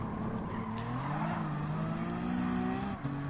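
Race car engine of an Audi TT Coupe 3.2 Quattro during an overtake at the Nürburgring in Gran Turismo 7: a steady, droning engine note that climbs gradually in pitch, with another engine whining alongside and a brief dip near the end.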